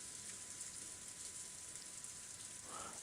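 Soft, steady rain falls in the Umineko: When They Cry visual novel, a faint, even hiss throughout with a brief light tone near the end.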